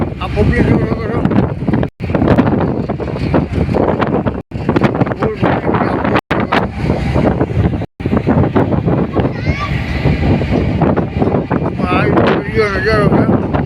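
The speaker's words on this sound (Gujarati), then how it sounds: "પવન બહુ છે." Strong wind gusting across the deck of the Hazira Ro-Ro ferry, buffeting the microphone in loud rumbling bursts while people talk over it throughout.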